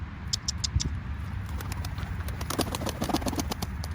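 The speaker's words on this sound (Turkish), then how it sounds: "Kuşlarımız da toplu uçuyor" A flock of pet pigeons flying together outdoors, rapid fluttering wingbeats and clapping flaps in quick bursts over a low steady background, fairly close, no talking.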